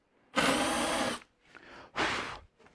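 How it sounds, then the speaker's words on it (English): A power drill cuts a countersink into wood for a bandsaw circle jig, with a sustained whirring burst followed by a second shorter run, close and loud with no talking. "And now I can come through from this side to create the countersink"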